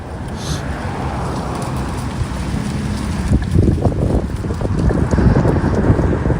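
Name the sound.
wind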